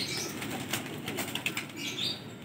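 Wings flap in a fluttery burst as a pigeon takes off nearby, with faint chirps in the background.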